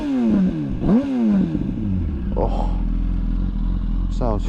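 A 2004 Yamaha R1 sport bike engine revs sharply twice, with rising and falling howls, then settles into a rumbling idle with a couple of quick blips, while someone speaks briefly over it.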